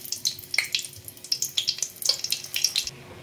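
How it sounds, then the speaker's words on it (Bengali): Dried red chillies crackling in hot mustard oil in a kadai, a rapid scatter of sharp, close pops and spits over a low steady sizzle, continuing for a few seconds. "তেলটা প্রায় গরম, শুকনো লঙ্কা ফাটিয়ে দিয়ে দিচ্ছি।"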